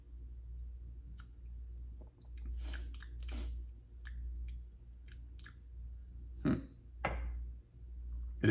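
Hot Taiwanese Geisha coffee is sipped in quiet, close slurps and wet mouth clicks, spread as a few separate sips over a soft steady hum. No speech.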